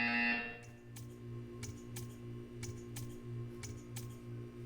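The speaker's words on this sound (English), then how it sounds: "You will hear a buzzer. When you hear the buzzer, stare at the art." A buzzer from the video game Portal 2 sounds in a test chamber, a series of short, sharp repeated pulses over a steady electronic hum, with no talking.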